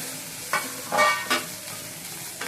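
Garlic frying in a pan for a drumstick-leaf dal, with a close bright sizzle and a few quick stirring scrapes.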